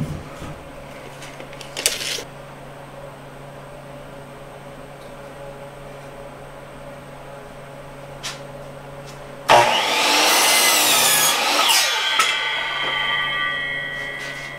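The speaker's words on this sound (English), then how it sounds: "I've cut this piece a little bit long so that I can trim off this factory end also" A power saw trims the factory end off a wooden board for a shop storage cart, starting up loud and close after about nine seconds of quiet workshop hum and a few small knocks, then whining steadily to the end.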